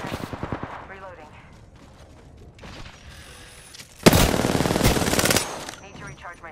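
Automatic gunfire in the battle royale game Apex Legends rattles in rapid bursts, with a loud, sustained volley midway, mixed with game sound effects and a character voice.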